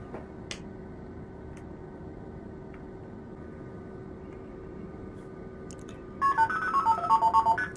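Multifrequency test tones from a blue box sound through the internal speaker of an ST150 telephone: after a long stretch of steady hum and hiss, a quick run of short, bright beeps plays in rapid succession near the end.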